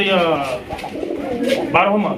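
A single Brahma pigeon coos close by in short, loud, throaty bursts, with a brief pause mid-way and a voice in the background.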